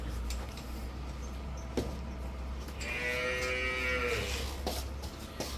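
A single long dairy cow moo rises and falls partway through, heard over a low, steady hum and faint background knocks at a farm.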